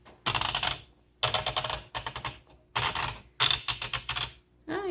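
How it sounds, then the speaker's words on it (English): Bursts of rapid key strikes on a 1969 Royal Lark portable typewriter, close and crisp, with short gaps between runs of typing. "let's go ahead and see how this types"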